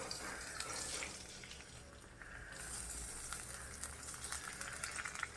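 Onion frying in a few tablespoons of cooking oil in a kadhai, a steady close hiss and crackle of sizzling that runs through the whole stretch with no voices.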